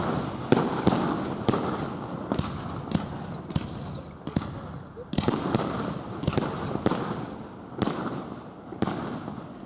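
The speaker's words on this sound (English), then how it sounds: "The night ended with a stunning display of fireworks." Night fireworks display ending a football league event, a rapid series of sharp bursts and cracks about every half second, fairly loud and echoing, with no voices.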